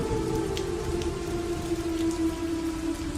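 Steady rain falls on a hard surface, a constant hiss with occasional louder drips, close by and unbroken.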